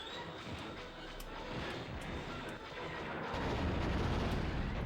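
Dense, rumbling bursts of Nintendo 64 game gunfire and explosive blasts, continuous and loud, growing heavier toward the end with no voices.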